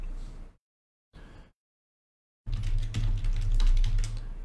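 Fingers type on a computer keyboard nearby: two short bursts of key clicks separated by silence, then a denser, faster run of tapping.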